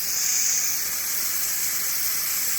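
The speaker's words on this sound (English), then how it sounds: "And you can hear the steam coming out." Steam hisses steadily from a Nesco electric pressure canner processing green beans, a continuous bright, even hiss with no breaks.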